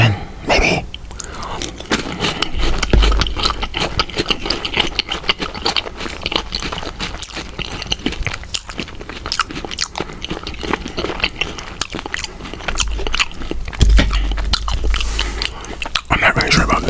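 Close, crunchy chewing and biting of Cinnamon Toast Crunch Loaded cereal with cream filling, a steady run of crisp bites and mastication that keeps going, loud and near throughout with no talk.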